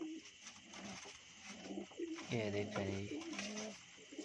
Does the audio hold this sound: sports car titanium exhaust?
no